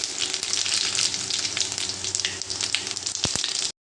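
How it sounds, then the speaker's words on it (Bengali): Whole garam masala spices dropped into hot oil, a loud, close, steady sizzle with some stirring clicks near the end, then a sudden stop. "তেল গরম হয়ে গেছে, গোটা গরম মশলাগুলো সব দিয়ে দিই।"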